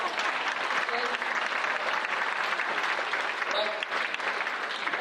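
A large audience at an operations conference claps continuously, dense and even applause that fills the whole stretch at close range without letting up.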